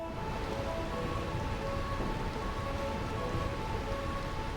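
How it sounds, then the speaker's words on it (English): Rain in Final Fantasy IX's stormy Burmecia, a quiet constant hiss of falling rain with faint low rumbling underneath and no talk. "Jeez, this rain is terrible."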